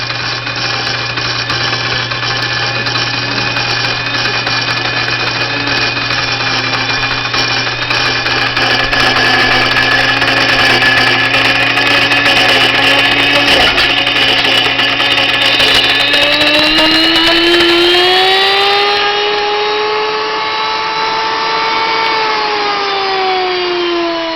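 A loud electric grain mill grinding popcorn kernels drones steadily with a constant whine; partway through, the pitch rises as the load changes and the motor runs more freely.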